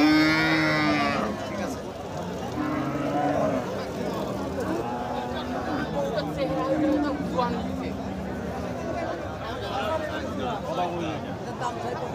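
Cross-breed cows, some of them bony, low and moo repeatedly at Khochabari cattle market in Thakurgaon, with long overlapping calls over the steady hubbub of a crowd and people talking nearby.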